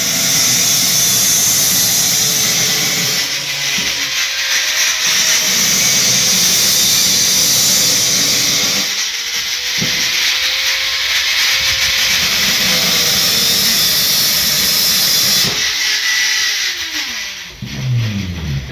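A grinder runs during stair construction work, giving a loud, continuous high-pitched whine and grinding rush that dips briefly a few times and trails off with a falling pitch near the end.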